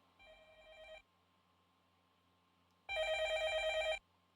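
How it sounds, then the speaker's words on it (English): A telephone rings in the video game Fate/Stay Night, heard as two electronic ring bursts about two seconds apart, the first faint and the second louder and trilling, with no talk. "The phone is ringing far away. It's the living room one."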